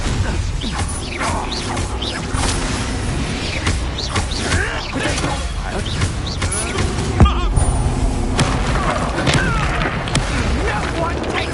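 Blasting-spell explosions in the Hogwarts Legacy video game, heard as repeated booms and crashing impacts amid clattering battle effects, with mechanical creaks and voices talking over the chaotic, dense mix.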